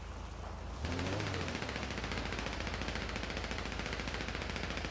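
Gunfire in GTA 5 role-play, where a quiet stretch gives way after about a second to sustained rapid automatic fire. A fast, even stream of loud shots then runs to the end without breaks.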